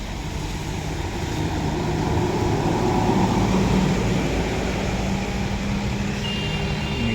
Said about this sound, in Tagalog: So ayan, marami po ang sasakyan.